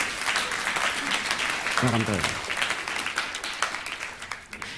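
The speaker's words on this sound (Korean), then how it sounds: "박수 한 번만 쳐주세요." A church congregation at a Sunday worship service applauds with a steady wash of clapping, while a voice speaks over and around it.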